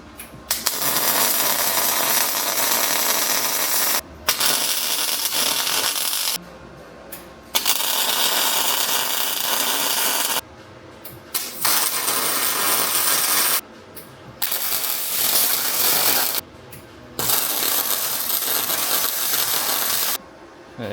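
Feet of an old hydraulic floor jack being welded: about seven crackling, buzzing bursts a few seconds long, broken by short silent pauses, close and loud.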